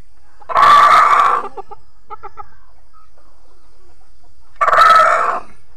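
A four-month-old Japanese Shamo rooster crows loudly twice, several seconds apart, with soft clucking in the quiet gap between.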